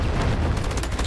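Gunfire from the first-person shooter Garena Delta Force pounds in a dense, loud burst of rapid shots and booms, continuous across the moment with no talk over it.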